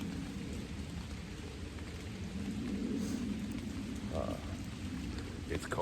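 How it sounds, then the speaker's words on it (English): Steady rain falls outdoors on a cold, mildly windy November afternoon, a constant soft patter throughout with occasional frog-like croaks in the background. "It's rainy."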